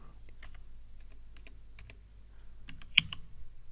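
A date is typed on a computer keyboard as scattered light key clicks come in short bursts, with a louder keystroke near the end, in a quiet room.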